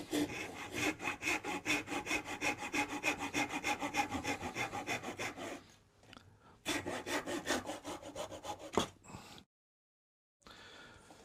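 A hand saw cuts through solid oak along a marked line, with rapid, even back-and-forth strokes, loud and close, pausing briefly before a few final strokes.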